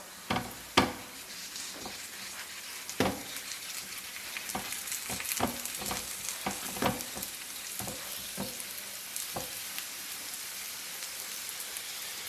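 Glutinous rice red bean cakes frying in a covered pan, a steady soft sizzle with scattered crackles and pops, close and fairly quiet throughout with no voices.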